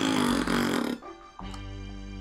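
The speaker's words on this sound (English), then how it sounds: "The birds hit him and he made a massive fart." A comic fart sound effect from the Pac-Man 2 video game, a loud, long blaring blast with a buzzy tone that dips briefly near the end, then carries on steadily, heard alone.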